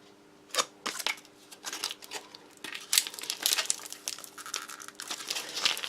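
Tough plastic packaging of French army emergency ration biscuits being torn and crinkled open, with loud, close, irregular bursts of crumpling and ripping and no talk.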